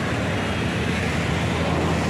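The flooded Tinau river at Butwal rushes past in a steady, dense roar of broadband water noise, loud and unbroken throughout, with no voices.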